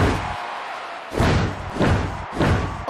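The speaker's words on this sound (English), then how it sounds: "the inverted exploder suplex!" Heavy slams and thuds from a WWE Mayhem wrestling match, three repeated impacts as a body hits the mat during an inverted exploder suplex, over a busy arena background.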